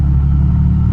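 Ferrari F12 twin turbo engine with its exhaust valves closed, giving a deep, steady, muffled rumble that holds loud and even through a brief rev, with no voices over it.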